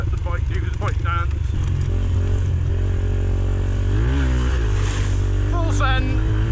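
A dirt bike engine revs and bogs near the microphone as it picks across loose rocks on a Welsh mountain trail, its pitch rising and falling unevenly, with a rider talking over it.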